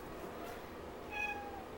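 A kitten in a bathtub lets out a single short, high meow near the end, faint and slightly echoing, with a quiet background before it.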